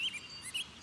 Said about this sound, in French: On dirait un spécimen rare d'oiseau très coloré.